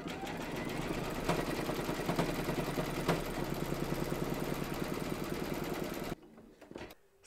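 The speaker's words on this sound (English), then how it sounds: "Pop your hoop into your machine and stitch round number 5 to secure it all." An embroidery machine stitches a reindeer towel topper in the hoop, giving a fast, steady mechanical chatter that runs loud and even before stopping abruptly, leaving a few faint clicks and quiet handling.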